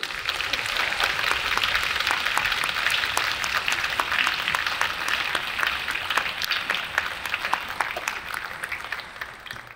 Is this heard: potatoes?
no